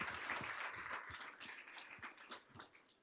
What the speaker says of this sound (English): Let's give them a bigger round of applause.